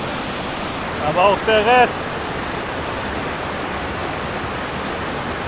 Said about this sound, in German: Das Wasser geht richtig runter hier.